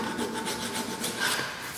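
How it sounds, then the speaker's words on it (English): Metal file rasping across a steel stud in steady back-and-forth strokes, close and fairly loud with a gritty scraping texture and no talk. "This, the file's catching it."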